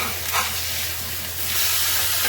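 Bacon cheeseburger patties sizzle steadily in a hot pan, a close, continuous frying hiss with a brief crackling surge near the start and a slightly louder stretch toward the end.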